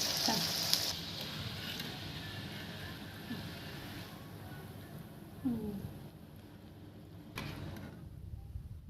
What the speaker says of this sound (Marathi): तेल गरम झाल्यानंतर मंचुरियन बॉल्स त्याच्यामध्ये तळून घ्यावे